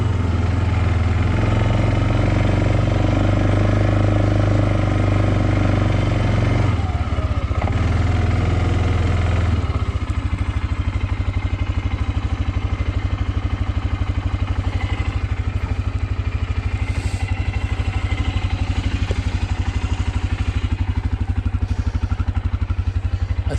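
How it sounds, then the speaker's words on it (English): A lawn mower runs continuously and loudly close by, with a steady engine drone and a brief dip in the middle; no one speaks over it. "I'm just going to mow some of the grass down"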